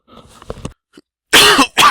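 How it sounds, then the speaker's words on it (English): Two loud, harsh coughs from a sinus-congested person close to the microphone, preceded by quieter throat noises and a brief pause. "you'll have to excuse the sinuses and coughing"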